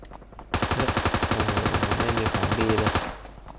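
Rapid automatic gunfire from a video game weapon, a steady stream of evenly spaced shots lasting about two and a half seconds, loud and close, starting and stopping abruptly.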